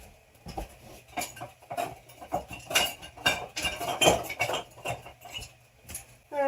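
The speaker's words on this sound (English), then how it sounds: "Just give it a quick little whisk." A whisk clinks quickly against the side of a bowl while mixing ingredients for a honey garlic sauce, producing a fast, uneven patter of light metallic taps, close and fairly quiet, with no talking.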